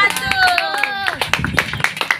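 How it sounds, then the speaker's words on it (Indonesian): Classmates in a school classroom clap for a presenting group, short uneven claps mixed with children's voices and chatter nearby. "tepuk tangan dulu kelompok 1"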